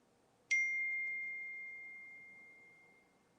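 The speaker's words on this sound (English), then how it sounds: "His phone's a dingin'." A phone gives a single clear notification ding, a sharp struck tone that rings on and fades slowly over several seconds in an otherwise quiet room.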